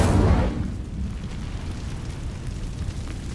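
Incendio fire spell cast in Hogwarts Legacy, a sudden whooshing burst of flame that flares loudly and then settles into a steady roaring rumble.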